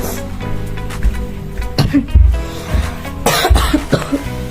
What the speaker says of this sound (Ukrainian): Ну, що я така дуже часто кашляю